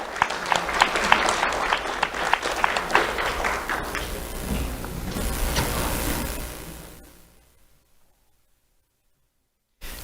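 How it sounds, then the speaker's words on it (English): An audience gives a round of applause for an award recipient at a community recognition ceremony, a loud sustained crowd clapping that swells, then fades to near silence before a brief burst at the end. "Let's have a round of applause for Joy Gonzalez Mendes."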